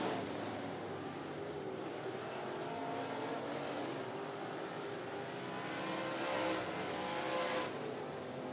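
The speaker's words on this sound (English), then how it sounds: "the K-15 of Kevin Lewis running just a little quicker laps in that higher groove" Modified race cars roar around the 411 Motor Speedway, a distant, continuous engine drone that swells and fades as cars pass, with no talk.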